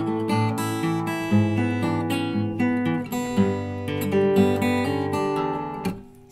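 A solo guitar plays an arrangement of a pop song, third verse: clear, close plucked melody over bass notes and chords in a steady rhythm, with no talking.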